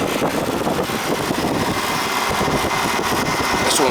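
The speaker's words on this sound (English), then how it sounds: "Compressor started on that one." An air conditioner's outdoor compressor unit running after starting up, a steady loud mechanical hum and whir with a dense buzzing tone, close by and unbroken throughout with no talking.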